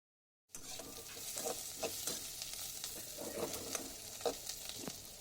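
Chopped onion and capsicum frying in oil in a kadai: after a brief silence, a soft, steady sizzle begins, broken by occasional stirring scrapes, fairly faint throughout.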